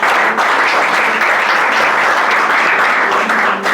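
Sustained applause and cheering from a church congregation acclaiming Jesus during a French-language service, a steady dense wash of clapping filling the room without a break.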